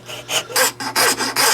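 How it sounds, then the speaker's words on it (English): A wood rasp files down Colt Cobra revolver grips in a few rhythmic back-and-forth strokes, five coarse scraping rasps close up, evenly spaced, with no talk. "Now I'm going to use a wood rasp"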